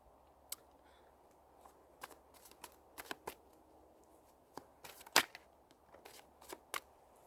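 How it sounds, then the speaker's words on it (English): Tarot cards are shuffled by hand in a quiet room, giving scattered crisp riffles and flicks with short gaps between them and one louder snap midway. "Let's also pull some tarot cards from the Hush Tarot."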